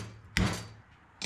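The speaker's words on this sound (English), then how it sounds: "I'm gonna smack her with a hammer." Hammer blow on a front suspension part of a 1977 Datsun being mocked up in a garage, a single sharp metallic thunk followed by a second hit about a second later, moderately loud with no talk.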